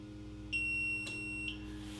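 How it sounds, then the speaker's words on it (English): A Kokoni EC2 mini 3D printer lets out one clear, steady electronic beep lasting about a second, close and alone over a faint hum. "press and hold this button till it beeps."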